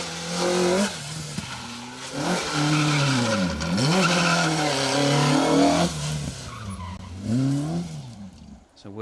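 A Vauxhall Nova rally car on an asphalt stage in Aberystwyth howls past close by, its engine pitch rising and falling through gear changes and revs, with tire squeal, then fading out at the end.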